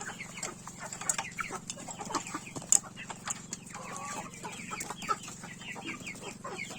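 Chicks and chickens being fed a protein and vitamin supplement cluck and cheep continuously at close range, with frequent overlapping peeps and one louder sharp call.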